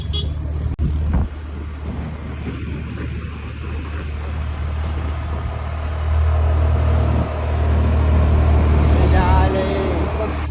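A car engine labours up the steep Matheran ghat road, a low steady drone that swells louder in the second half, with brief speech over it.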